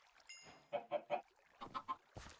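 Chickens in the Minecraft VR video game give a series of short clucking calls in two quick bursts of three, fairly clear against a quiet background, with a brief noise at the end.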